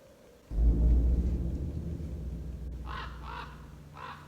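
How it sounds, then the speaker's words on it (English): Raven caws, a quick burst of three or four harsh calls near the end, rising over a heavy low rumble like thunder that swells in early and carries through. "Quoth the raven,"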